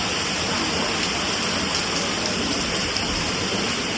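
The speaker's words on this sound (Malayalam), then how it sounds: "പുറത്ത് നല്ല അടിപൊളി മഴ തുടങ്ങി" Heavy rain pouring down outside during a trip to hilly, mist-covered Attapadi, a loud dense unbroken roar of falling water that stays steady and close, with no voices.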